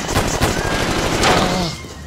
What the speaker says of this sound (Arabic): انا مصر اني سمعت صوت رصاص